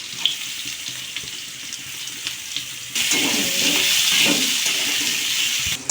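Potatoes and onions fry in a pan over cumin seeds and bay leaf, a steady hiss throughout that swells noticeably louder partway through, with no talking.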